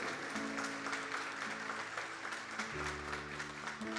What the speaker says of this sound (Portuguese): Dê um aplauso ao Senhor com alegria